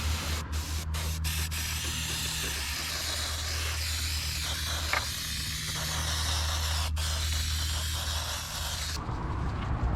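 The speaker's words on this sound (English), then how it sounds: "I'm going to spray the top side as well, just to make sure that it's soaked in there good." Steady, continuous aerosol hiss from a spray can running for several seconds close to the microphone while soaking a 2012 Nissan Titan starter motor, with a low hum underneath and a brief break near the end.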